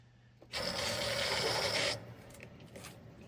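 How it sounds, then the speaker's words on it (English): Tap water runs from an open faucet into a water heater being refilled during a pressure relief valve replacement, a steady close rushing gush lasting about a second and a half before shutting off to quiet room noise. "I'm just gonna fill this up with water."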